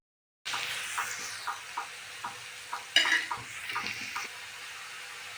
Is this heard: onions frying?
yes